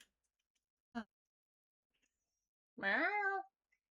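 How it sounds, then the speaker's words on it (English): A house cat gives one clear, drawn-out meow close to the microphone in an otherwise quiet room, preceded by a single brief click. "my cat's just meowing at me."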